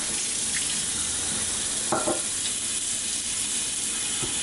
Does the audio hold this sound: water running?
yes